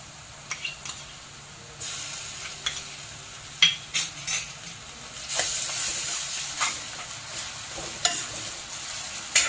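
Ginger garlic paste hitting browned onions in a hot pan for chicken kofta curry, bursting into loud sizzling and crackling, with repeated scraping and tapping of a spoon as it is stirred in.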